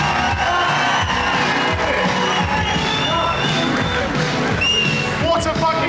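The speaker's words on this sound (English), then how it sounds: "What a fucking crowd!" A packed crowd at a comedy tour show in Norwich cheers and whoops loudly and continuously, a dense wall of shouting and babble with scattered yells rising above it.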